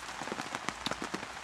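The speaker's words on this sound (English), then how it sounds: "far too much rain coming in." Heavy rain patters steadily onto a tipi and tarps in woodland, a dense, fairly quiet spatter with scattered louder drops.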